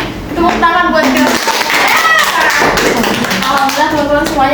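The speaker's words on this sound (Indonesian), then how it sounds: "Oke, tepuk tangan buat kita." A small group in a classroom guidance session claps their hands together, a burst of quick taps under talk from an adult voice and children's chatter.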